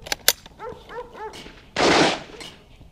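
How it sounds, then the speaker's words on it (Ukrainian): A dog barks three quick times at moderate distance at an outdoor airsoft event, between sharp pops and a loud burst of noise. "що за пес гавкає?"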